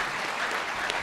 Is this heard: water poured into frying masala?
no